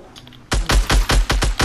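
Rapid burst of gunfire in the Fortnite video game, about six sharp, evenly spaced shots close and loud after a brief quiet start.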